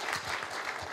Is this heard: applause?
yes